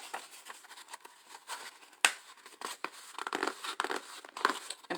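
Paper pages of a book being folded over for an altered-book scrapbook craft: soft crinkling and creasing sounds with a few sharper snaps, close and quiet, without talk.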